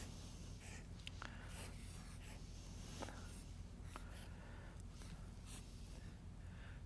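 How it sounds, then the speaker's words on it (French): A pen or pencil scratches faint, scattered strokes on paper while a stick figure is drawn, quiet and close, with a low steady background hum and no speech. "là, je dessine une autre personne"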